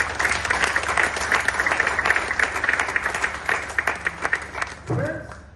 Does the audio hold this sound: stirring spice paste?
no